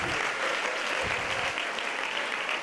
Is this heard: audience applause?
yes